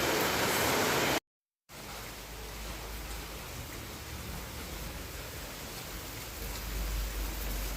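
Heavy monsoon rain pours down in a dense, even hiss that runs almost unbroken, cut by a short silent gap near the start and swelling a little louder toward the end.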